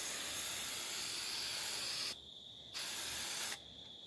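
Bursts of aerosol spray paint hiss steadily from a can onto a BB gun barrel, two long continuous sprays separated by short pauses, close and fairly quiet.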